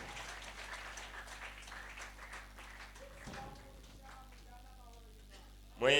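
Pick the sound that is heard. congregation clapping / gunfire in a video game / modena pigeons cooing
congregation clapping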